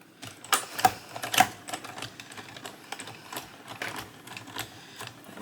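A die-cutting machine feeds a card through with rattling, clicking mechanical bursts and uneven taps, close and moderately loud, without speech.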